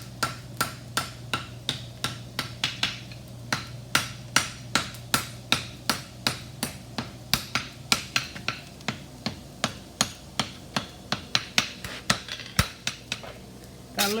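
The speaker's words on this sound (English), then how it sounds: "Got a little bit of forging done." Steady, ringing hammer blows on an anvil while forging a horseshoe bar into a heart bar shoe, dozens of sharp metallic strikes in a regular rhythm over a low hum, no talking.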